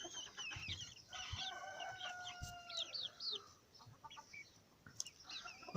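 Fairly well-grown chicks of a Spanish cross and frizzle breeds peep and chirp in a brooder. Their high, quick calls overlap in short runs, and soft rustling and bumps sound underneath.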